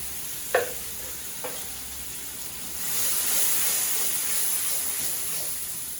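Ingredients fry in hot oil for a home-cooked fish curry with fresh bottle gourd: two sharp clicks early on, then a steady, close sizzling hiss that swells and holds to the end.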